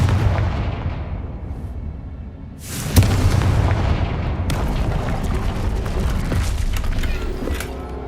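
A fire spell cast in the Hogwarts Legacy game bursts with a sudden loud broadband blast at about three seconds, followed by a sustained crackling rumble over a dense background of game ambience.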